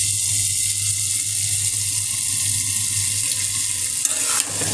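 Vegetables fry in a pan with onion, dried chili and panch phoron, a loud, even sizzling hiss that continues steadily before a brief clatter near the end.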